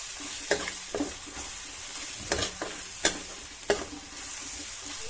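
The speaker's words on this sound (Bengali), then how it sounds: "নুন আর হলুদ দিলাম, কারণ মশলাটা মোটামুটি ভাজা ভাজা হয়ে এসেছে" Whole spices with salt and turmeric sizzle in a pan, a steady frying hiss broken by several sharp scrapes and knocks as a spoon stirs them, close and with no talking.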